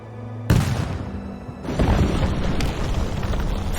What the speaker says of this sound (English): the closed gates of those with the foolishness to challenge our cannons